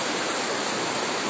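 A loud, continuous roar of rushing floodwater behind a house, dense and unbroken, like a strong torrent flowing nearby.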